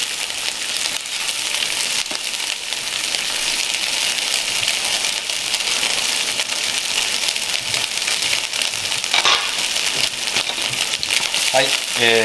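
Bacon sizzling in a frying pan while a soufflé omelette sauce is being made, a steady crackling hiss at moderate level with a few sharper pops near the end.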